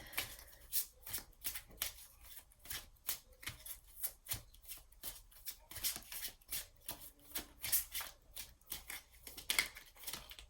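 Rapid rhythmic shuffling and riffling of a Love Compass Oracle card deck, close and crisp, with repeated papery snaps as cards are drawn, no voice heard.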